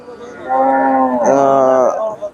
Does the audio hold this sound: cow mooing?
yes